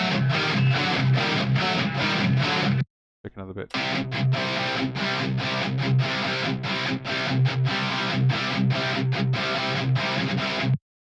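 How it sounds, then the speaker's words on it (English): Heavy distorted rhythm guitar run through a Positive Grid Bias amp plugin, chugging in tight repeated palm-muted bursts with a brief gap partway through, loud and up front, with a short spoken remark. "this is what my rhythm guitar section sounds like."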